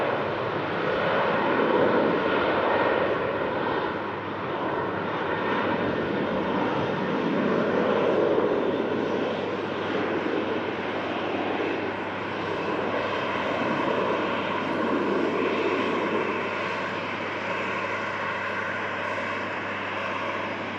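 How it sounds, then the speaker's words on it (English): A Sun Express airliner departs an airport, its jet engines giving a loud sustained roar that swells and rolls steadily for about twenty seconds without any talk. "Now the special Sun Express is going to be the next departure."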